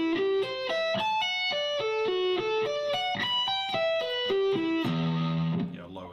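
An electric guitar with distortion plays a minor arpeggio slowly with sweep picking, each note distinct in a steady rising and falling run that ends on a sustained low note, loud and close.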